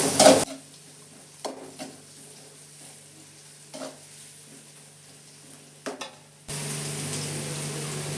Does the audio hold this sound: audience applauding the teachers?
no